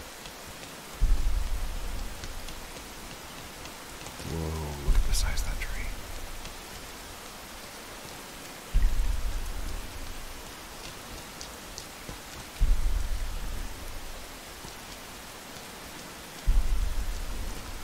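Heavy rain hisses steadily in the video game Rain, with periodic deep booming thuds like thunder rolling under it; someone speaks briefly over the downpour.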